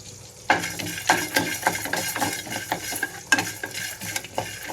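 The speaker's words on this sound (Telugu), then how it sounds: "ఆయిల్ ఏమీ లేకుండానే పల్లీలు అలాగే ధనియాలు వేసి వేయించుకుంటున్నాను" Peanuts and coriander seeds dry roast in a pan without oil, stirred with a spoon in a run of close, uneven scrapes and rattles, with no talking.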